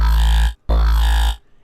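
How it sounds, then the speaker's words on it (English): Two sustained, loud growling bass synth notes built from a monster wavetable with frequency modulation and wavetable movement, giving a gritty, machine-like drum and bass drop sound, separated by a short gap and ending abruptly. "It's just a growl. It's actually made up out of a monster wavetable"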